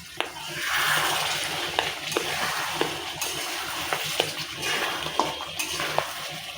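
Beef simmering in a pot with a splash of added water, seasoned with turmeric, salt, ginger and garlic: a steady bubbling hiss broken by scattered clinks of a spoon against the pot, close and fairly loud.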